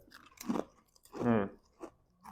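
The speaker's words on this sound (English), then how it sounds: "that's a good crunch. That was a good first bite." Someone bites into a salt and vinegar potato chip up close with a sharp crunch, followed by crisp chewing and a short voiced murmur.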